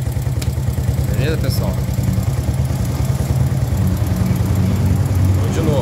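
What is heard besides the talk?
Honda Biz 125 motorcycle engine starting and running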